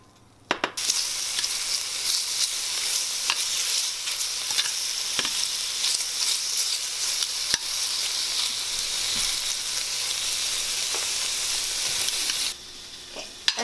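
Vegetables cooking lightly in a Dutch oven for low-oil chow mein give off a steady, loud sizzle that stays even throughout, broken by a few faint clicks of stirring.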